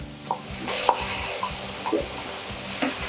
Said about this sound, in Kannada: ಹಾಕಿ ಮತ್ತು ಚೆನ್ನಾಗಿ ಫ್ರೈ ಮಾಡ್ತಾ ಬರೋಣ.